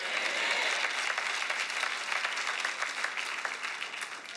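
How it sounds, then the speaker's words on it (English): A church congregation claps hands in sustained, dense applause that stays loud and steady throughout before easing slightly at the end. "Clap your hands and say amen"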